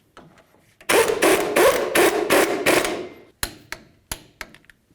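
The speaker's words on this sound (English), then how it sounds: "Now let's start the nut on here, snug it up, and then we'll torque it to 67 foot-pounds" A tie rod nut on the steering knuckle of a 1999-2007 Ford F-250 Super Duty front axle is run down with a rapid-fire impact wrench, several loud close bursts, then a few sharp separate clanks.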